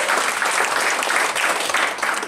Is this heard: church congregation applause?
yes